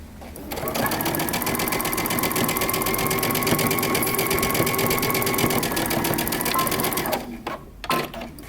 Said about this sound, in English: we're going to stitch that using 5/8 of an inch seam allowance